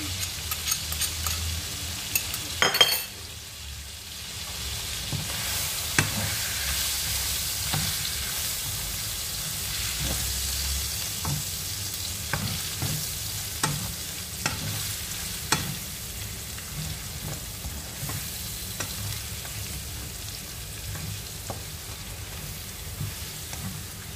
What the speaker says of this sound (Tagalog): Tapos isunod natin ang 2 tablespoon na tomato paste para masarap isalin natin sa pag-fry.